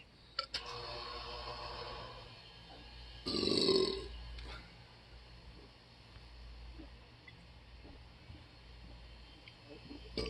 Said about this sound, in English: Finish it off with a burp.